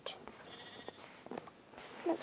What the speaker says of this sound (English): Okay, now goat.